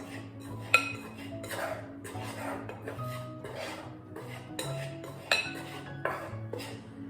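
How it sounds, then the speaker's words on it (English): A knife scrapes butter off into a bowl of flour for a pear and cherry pie, a run of soft rasping scrapes and light clinks against the bowl, close and quiet with no voices. "So, get the butter off my knife."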